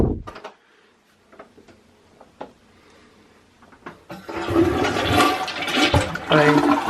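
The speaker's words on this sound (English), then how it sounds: "I'm just gonna flush him down the toilet." A household toilet flushes loudly and close by, with a rushing swirl of water that builds and continues, preceded by a few small clicks and knocks of the handle and bathroom.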